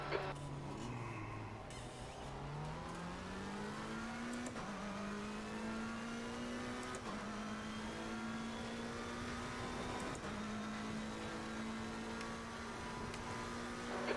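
A race car engine in a racing video game revs loudly and continuously, its pitch rising through the gears with brief shift dips every few seconds, close and steady throughout.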